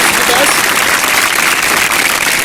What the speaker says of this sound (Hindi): बहुत सारी तालियां सर